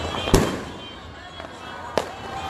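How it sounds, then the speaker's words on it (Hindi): Fireworks burst over Old Delhi on Independence Day, two sharp loud bangs about a second and a half apart with a softer pop between, over a steady crowd hum and some voices. "ये जो आतिशबाजी शुरू हुई है"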